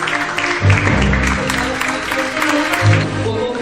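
Pastors clap in response during a seminar at El Shaddai church in Ciudad Guayana, Venezuela, with two brief bursts of applause standing out over a steady crowd murmur and faint voices.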